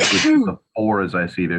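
A single sneeze bursts out during a tabletop war game session, followed by a short pause and then talk resuming around it.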